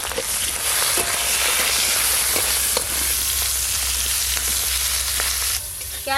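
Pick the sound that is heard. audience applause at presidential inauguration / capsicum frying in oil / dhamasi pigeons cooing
capsicum frying in oil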